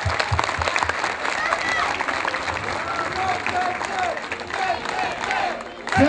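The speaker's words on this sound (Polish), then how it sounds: "Brawa dla Państwa!" Crowd applause and cheering at an outdoor celebration in a town market square for a women's basketball team winning the Polish championship, steady and dense throughout, with a voice speaking over it.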